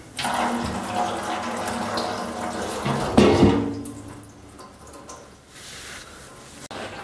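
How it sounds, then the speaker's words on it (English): Water pouring and splashing from an unplugged parts washer drum onto a floor, a continuous gushing with a louder surge midway before easing into trickling. "I didn't have a tap or a plug in the drum and it was draining straight all over the floor"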